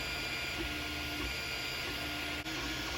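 A 3D printer prints a trigger guard for a Ruger American rifle with a soft, continuous mechanical whir and faint stepper-motor tones under a steady hum, close and quiet.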